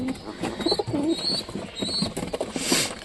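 Pigeons coo softly in short, repeated low phrases, with occasional higher chirps and faint wing flutters, close by in a quiet indoor space.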